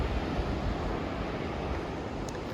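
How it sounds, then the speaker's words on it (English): Strong ocean waves break along the Big Sur coast, a dense continuous wash of surf noise with some wind, moderately loud and steady, no voices. "The waves are strong."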